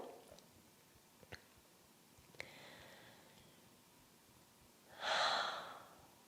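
Soft, close breathing during a qi gong exercise, with a few faint clicks and small inhales followed by one long, deep breath that stands out clearly in a quiet room.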